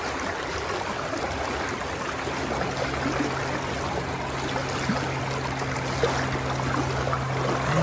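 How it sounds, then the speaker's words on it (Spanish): Ice-cold fresh water rushes along an outdoor stream, a steady close wash of gurgling flow with no talk over it. "Miren qué chulada, agua fresquecita."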